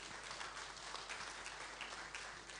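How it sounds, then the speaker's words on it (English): Applause from an audience at a 2025 petroleum licensing round pre-bid conference in a hall at the Eko Hotel, a steady dense wash of clapping that holds evenly throughout, with no talking over it. "A round of applause for her, please."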